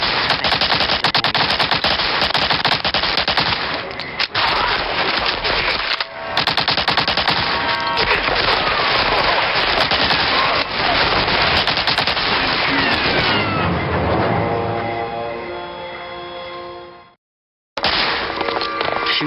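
Loud, dense automatic gunfire in the WWII shooter Medal of Honor: Allied Assault, sustained bursts of machine-gun and rifle fire over a battle din, dipping briefly and then cutting to near silence before resuming.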